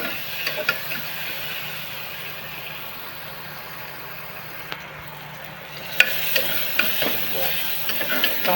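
Onion and tomato frying in a pan for a white pea curry, with a steady soft sizzle and occasional scrape-like stirring clicks that grow a little busier toward the end.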